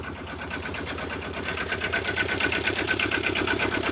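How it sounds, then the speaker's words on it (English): Small diesel engine of an Aixam Mega Van chatters at idle, a rapid, rough, even clatter held close and steady throughout. "there we go, that is the diesel engine"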